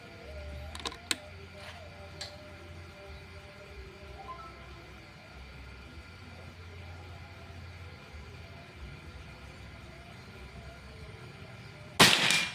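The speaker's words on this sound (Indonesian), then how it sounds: "Tembakan keempat." A single sharp report from a Predator Pajero Gen 6 air rifle during an accuracy test on a target board cracks out loudly near the end, after a quiet stretch with a few faint clicks and handling taps.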